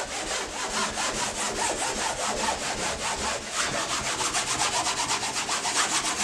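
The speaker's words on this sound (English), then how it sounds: "I'm gonna go ahead and clean out the whole entire tub so we can see. And I'm just wiping." A bathtub being scrubbed and wiped clean with fast, even back-and-forth strokes, loud and close, running continuously with no talk.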